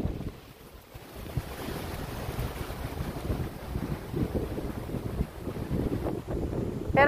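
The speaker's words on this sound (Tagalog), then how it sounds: "ang lakas ng hangin" Strong, gusty wind roars and buffets the microphone continuously, with a steady low rumble rising and falling throughout.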